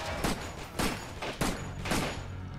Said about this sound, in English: And that was three bullets to the head.